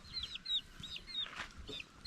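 Several chickens cluck and chirp close by in a lively flurry, soft overall, with no talking.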